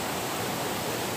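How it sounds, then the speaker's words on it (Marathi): A waterfall roars as a steady, dense hiss of rushing water, loud and constant with no breaks. "आता बघा तो वरती धबधबा पाहू शकता"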